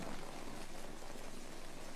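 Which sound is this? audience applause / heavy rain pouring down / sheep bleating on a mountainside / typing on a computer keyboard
heavy rain pouring down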